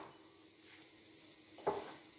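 Red onions drop into warm oil in a pan for a crustless quiche, giving a faint, quiet sizzle with one brief louder clatter near the end.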